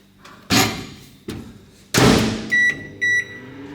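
A microwave oven in use while preparing food: door thumps and slams open and shut, then a few short, bright electronic keypad beeps, all close and fairly loud with no talking.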